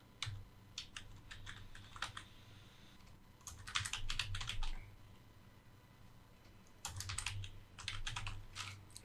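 Keys on a computer keyboard tapped in short uneven bursts, with pauses between words, close and fairly quiet with no voices.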